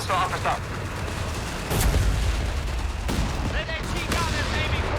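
Machine gun and artillery fire in the Company of Heroes 3 strategy game, bursts of rattling shots and heavy booms layered under a commentator's speech.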